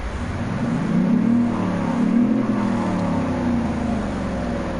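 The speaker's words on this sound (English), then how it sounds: "Whenever I rev it up, it sounds like it's going to be a fast vehicle, but it's not." A truck engine in the Car Mechanic Simulator game revs up and down in smooth, sustained swells, a loud steady drone rising and falling twice with no talking.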